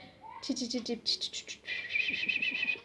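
A person's voice imitates a flock of birds chirping and calling noisily as they fly back to their nests at dusk, a run of quick high chirps followed by a sustained trilling twitter.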